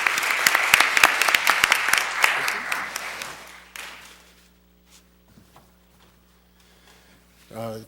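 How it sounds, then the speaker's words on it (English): Audience at a city council meeting giving a round of applause, loud dense clapping for several seconds that thins out and fades, followed by quiet room noise, a few shuffles and a voice starting at the end. "please give them another round of applause for this monumental accomplishment"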